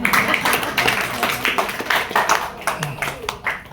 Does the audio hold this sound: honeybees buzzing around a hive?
no